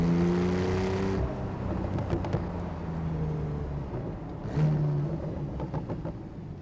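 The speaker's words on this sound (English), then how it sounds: "Auto blip, the sound that you get, the burbles when you're downshifting, is great." A manual Porsche GTS engine revs through an auto-blip downshift, its exhaust burbling and rising in pitch from inside the moving car, heard alone with no talking.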